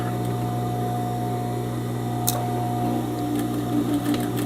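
A sewing machine runs steadily and loudly, stitching a skirt waistband and starting with a backstitch, its motor hum continuous throughout, with a few faint ticks and clicks along the way and no talking.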